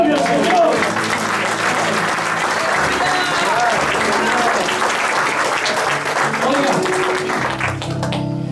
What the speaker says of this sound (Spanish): Dale un aplauso de gloria al Señor.